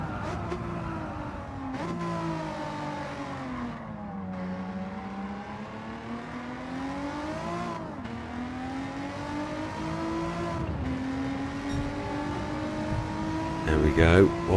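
A Renault Clio V6 24v racing in Gran Turismo 7 at the Tokyo 600 event, its engine note climbing and dropping through repeated gear changes and revs, with commentary running over it.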